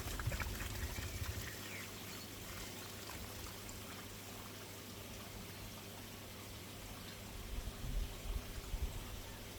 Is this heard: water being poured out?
yes